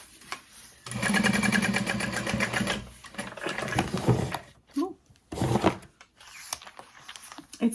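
A sewing machine set to a wide 6.5 stitch length runs in a few close bursts of rapid mechanical stitching. Short pauses separate the bursts, and a voice speaks at times.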